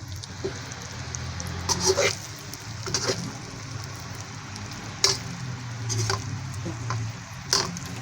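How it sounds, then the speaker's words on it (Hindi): Okra (bhindi) frying in a pan of hot oil, giving a steady close sizzle with occasional clacks and scrapes of stirring. "अब बाकी की भिंडी मैं आपको फ्राई करके फिर मैं आपको दिखाती हूँ"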